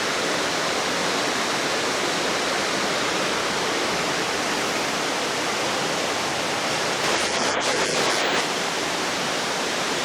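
A river flows beneath a stairway that crosses it in a forest, a steady, loud, rushing wash of water that continues without a break throughout.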